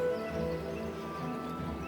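Horse in the Oblivion Remastered video game, with soft clip-clop hooves and a quiet whinny over a steady tonal game-music bed, faint and alone.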